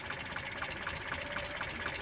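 Mitsubishi Colt T120 engine idling steadily with a continuous low rumble and faint mechanical ticking, heard close up while the distributor is being adjusted.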